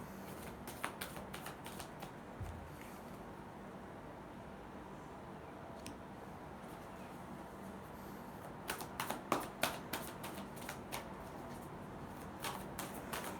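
Cards are shuffled during a tarot-style card reading, soft riffling bursts that come in clusters near the start and again toward the end, quiet and close with no talking.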